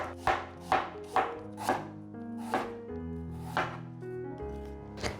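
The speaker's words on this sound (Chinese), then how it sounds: "把苹果切片" A knife slices through a peeled apple on a cutting board, giving about eight close, crisp chops in a loose, unhurried rhythm.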